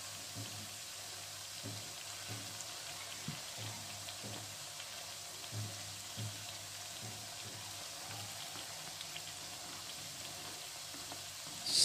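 Dough frying in hot oil gives a steady, soft sizzle and crackle that runs throughout at low volume, with faint tapping and a low background hum.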